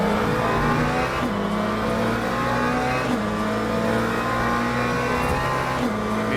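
GT3 race cars at Sebring in the Le Mans Ultimate racing game, including a Mustang and a BMW, engines droning steadily at high revs with brief shifts and a continuous close, loud mechanical roar.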